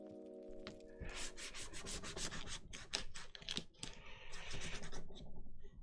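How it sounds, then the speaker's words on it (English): A craft knife slices trim off an edge, giving a close, busy run of rapid scratchy rasping strokes that continue for several seconds with brief pauses, and no voices. "I'll use a craft knife just to cut the trim off the edge."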